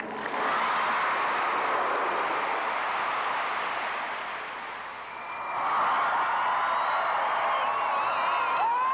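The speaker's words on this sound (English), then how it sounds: "The crowd around me is going wild. They're whistling, cheering, and applauding." At the Expo 86 opening at the Plaza of Nations, a large crowd roars with cheering and applause in a broad, dense wash that dips briefly and swells again, with shrill whistles rising over it.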